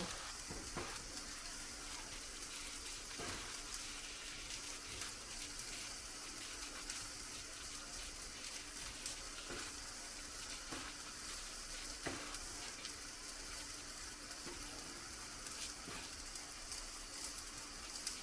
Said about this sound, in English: Going over to my rice and mixing it with the taco seasoning.